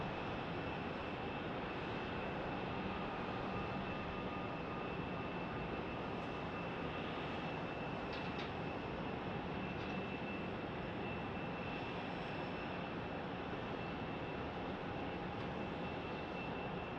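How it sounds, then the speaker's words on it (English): Breeze Airways A220-300 jet airliner at Phoenix Sky Harbor airport, a steady, broad, distant jet roar that fills the whole stretch at an even level with no talk. "Yep, there's the Breeze A220"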